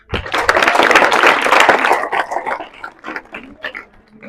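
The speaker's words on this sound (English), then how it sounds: "if you respect yourself, clap for yourself" An audience of girls claps at a menstrual hygiene sensitization day at Hope Academic Centre. A loud, dense burst of applause with shouts thins after about two seconds into scattered claps.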